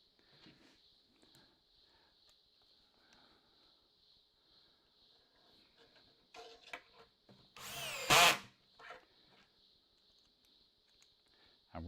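A Festool CXS cordless drill with its clutch set to 5 drives a screw during kitchen cupboard drawer work, giving one loud, brief whirring burst near the end. Quiet handling knocks and shuffling come before it.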